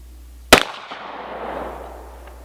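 A Miroku Kentucky black powder flintlock-style pistol fires a single loud, sharp shot with an extra-heavy powder charge, followed by a long, fading rushing decay, recorded close outdoors.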